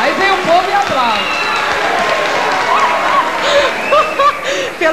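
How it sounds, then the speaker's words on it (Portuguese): A 1990 Brazilian television studio audience claps and cheers during a talk show, lively applause mixed with excited voices, laughter and shouting over it. "aí vem o povo e aplaude."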